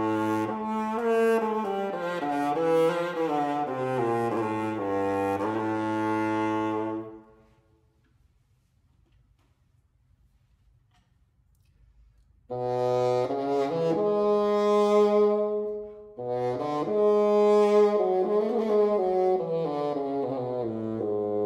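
Baroque double-reed playing on dulcian or bassoon: a reedy, sustained melodic phrase of several notes, a pause of silence for about five seconds, then two more phrases, clear and close with no talking.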